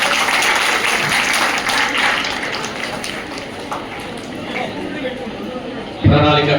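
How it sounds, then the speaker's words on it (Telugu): An audience at a town medical association public meeting claps together in a dense, sustained wash of applause that gradually thins before a voice speaks at the end. "అందరూ చప్పట్లు కొట్టాలి."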